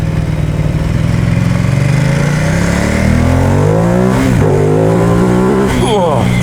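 A 2021 Ducati XDiavel motorcycle ridden on a road: a loud, close engine drone that climbs and shifts in pitch as it revs, with steady wind rush throughout.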